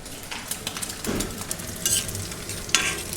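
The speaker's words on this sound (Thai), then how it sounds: "คั่วหมูนะครับคั่วมันหมูก่อน คือน้ำมันมันออกก่อนครับ" Pork fat frying in a pan as the oil renders out, a close crackling sizzle with spatula scrapes and a few metallic clinks against the pan, and no voices.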